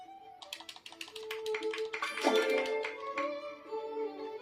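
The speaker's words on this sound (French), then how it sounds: "Applaudis Ondine avec moi." Hands clap in a quick run of light, crisp claps, with a melodic tune playing behind them.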